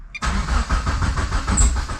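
A 2G GSX car engine cranks over and catches, a loud, steady mechanical churn with a rhythmic pulse running throughout after a brief quiet start.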